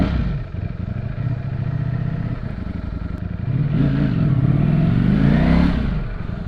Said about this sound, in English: This is the best stock exhaust I've ever heard in my entire life.